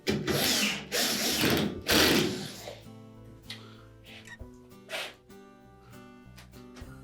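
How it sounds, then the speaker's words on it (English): A power driver whirs loudly, driving a single screw into the bottom center of a Whirlpool washer cabinet during a door latch replacement. Softer clicks and short bursts follow, with a ratcheting texture. "We'll begin by putting a single screw in the center at the bottom."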